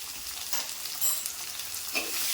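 Small shallots sautéed with a pinch of salt in a pan give a steady, close frying sizzle, with a few soft stirring scrapes rising briefly above it and no talking.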